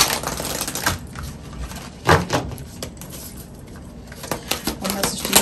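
Tarot cards being shuffled, close and crisp, with irregular riffling bursts and sharp taps spread across the stretch, no talk over them.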